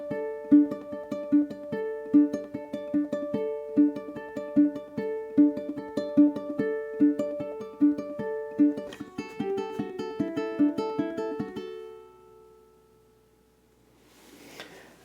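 A ukulele duet plays a song, with a bright picked pattern and steady plucked notes that then open into fuller ringing chords. The chords fade to a soft tail, followed by a brief handling rustle.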